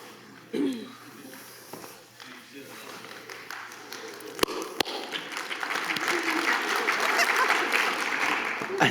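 Audience applause at a Limit Situation 2022 talk builds steadily into a broad, sustained clatter of many hands, with people talking over it.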